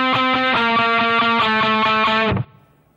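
Distorted electric guitar chords strummed in a steady down-up rhythm, loud and close, ending with an abrupt stop.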